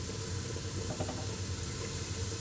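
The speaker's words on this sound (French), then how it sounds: "Donc moi je commence à faire revenir mes oignons." Onions frying in a pan give off a soft, continuous hiss and sizzle at low volume, steady with slight crackle through the short stretch and no talking over it.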